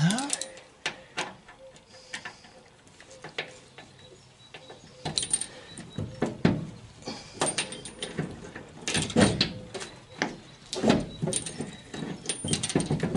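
A trunk latch on a Citroën Traction 11B clicks as it locks, giving several close mechanical clacks and ratchet-like snaps spread through a quiet workshop space, with a few sharper knocks toward the end.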